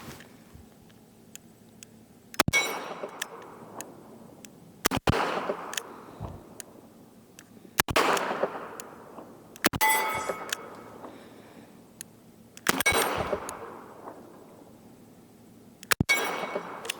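Sharp .44 Magnum shots fired with 240-grain hollow point loads crack out about seven times at irregular intervals of a couple of seconds, each followed by a ringing outdoor decay, with faint metallic clinks between them.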